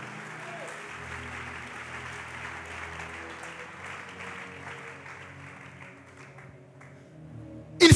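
An audience at a church gathering applauds loudly for several seconds, a dense wash of clapping that thins toward the end before a sudden sharp noise.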